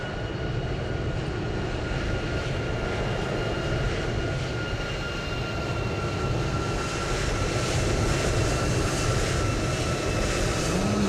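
A Jet2 airliner inbound from Manchester in Microsoft Flight Simulator 2020, a steady broadband engine roar with a faint whine, holding constant and gradually swelling louder as it approaches, with no voices.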